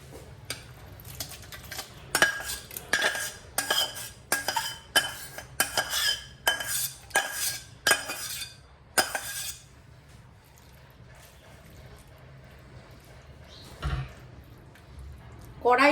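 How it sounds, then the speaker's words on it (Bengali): Mushrooms going into an oil-brushed biryani pot, heard as a quick run of clattering pot and utensil knocks and soft squishy drops, then a quieter stretch with a few later clinks. "প্রথমে মাশরুমটা দিয়ে দেবো"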